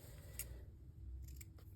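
Paper ripped by hand for a junk journal: a couple of brief, close tearing bursts over a low room hum.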